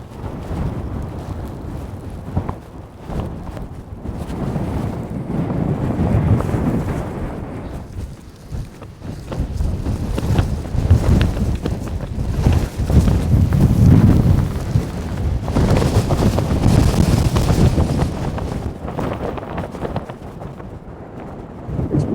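Strong wind at an exposed wild camping site, roaring and buffeting loudly against the microphone in irregular gusts that swell and ease over a continuous low rumble.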